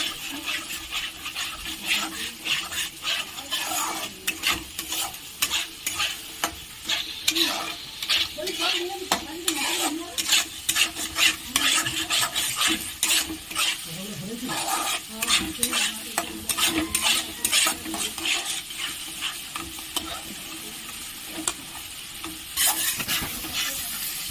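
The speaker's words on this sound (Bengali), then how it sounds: "ভালো করে এবারে কষিয়ে নেব।" Masala with cashew paste sautéing in a pan for bottle gourd kofta curry, constant sizzling with frequent scraping spatula strokes and occasional metal clinks against the pan, close up with no talking.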